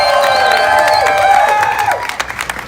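Crowd applause and cheering at the 2018 Yonkers Pride Parade, a loud, continuous outdoor wash of clapping mixed with a sustained tone that fades near the end, with clapping growing more broken.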